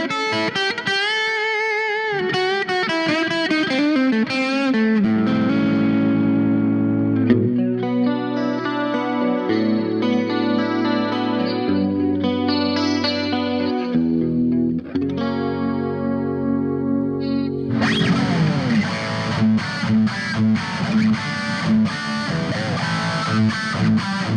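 Electric guitar played through a Boss Katana Mini X mini amp, shifting between chords and riffs with distortion and chorus-like effects, loud and continuous throughout.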